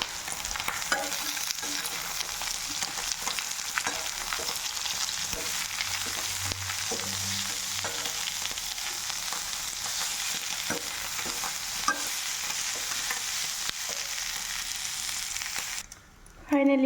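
Greens stir-fried in a pan with onions already browned give a steady, close hiss of sizzling that runs unbroken for many seconds, ending in a brief clatter.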